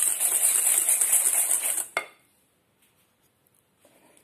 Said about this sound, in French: on va fouetter jusqu'à ce que le mélange devienne un petit peu mousseux